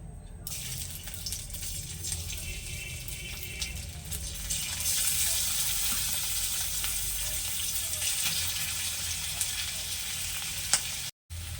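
Steady crackling sizzle of boiled potatoes and carrots frying in a hot pan, continuous and close, with a brief break near the end.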